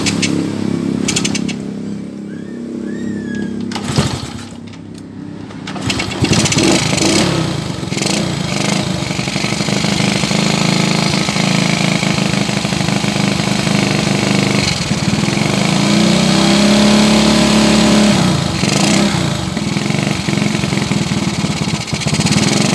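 Honda Supra 100cc motorcycle engine running steadily after a new cylinder head install, a loud close buzzing putter that holds nearly constant for over twenty seconds, with a brief dip early on and no voices.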